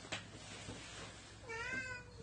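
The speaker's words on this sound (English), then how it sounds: "that's Willow crying right now" A cat in a home garage gives a short, faint meow near the end, alone against a low room hum.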